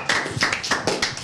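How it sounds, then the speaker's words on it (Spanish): A few quick hand claps from a studio audience on a live rock TV show, applauding firefighters. The burst is brief and close, with a voice faintly mixed in. "Un aplauso para señores bomberos"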